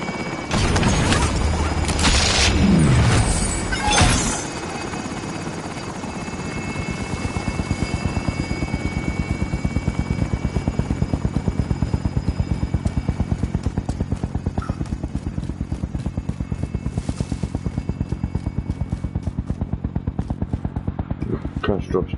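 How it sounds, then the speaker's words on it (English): Helicopter in the video game Warzone, a steady loud rotor chop and turbine whine running throughout after a few brief louder impacts at the start. "Helo is in position."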